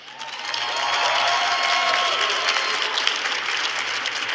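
Sustained crowd applause for players at a Dragon Ball Legends gaming event, a dense steady wash of clapping with some cheering mixed in, swelling after the first half-second and holding loud throughout.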